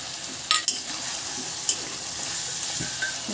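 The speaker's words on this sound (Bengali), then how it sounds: "আলুগুলো সেদ্ধ হওয়ার জন্য সামান্য জল দিয়ে দিলাম।" Potatoes cooking in a pan just after a little water has been added, giving a steady close sizzle with a few brief sharp clinks of utensil against the pan.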